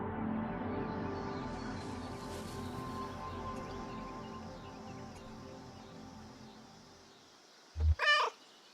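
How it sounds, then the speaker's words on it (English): A cat gives a short, curious meow, a brief double call near the end after a stretch of quiet low ambient hum. "Curious meow."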